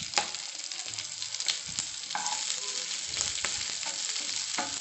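Chopped onion and capsicum sizzle and crackle in a hot pan while being stirred for chilli chicken, a close, continuous frying hiss with scraping stir sounds throughout.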